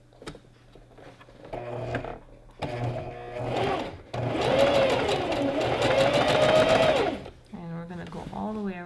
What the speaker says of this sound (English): use a wide zigzag stitch. And we're going to sew over the top of the thread, not catching the thread with the needle.